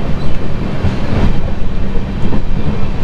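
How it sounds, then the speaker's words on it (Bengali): A long-distance Sealdah to Balurghat passenger train pulls out of a station, a loud, close, continuous rumble of rolling carriages with faint rhythmic wheel clatter and no voices. "ট্রেন ছাড়ায় কোনো লেট নেই।"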